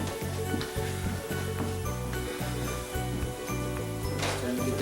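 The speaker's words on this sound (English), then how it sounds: "Trying to get that sizzle on." Cheeseburger pie filling sizzles steadily in a pan, a loud, continuous frying crackle with rhythmic thumps and scraping as it is stirred.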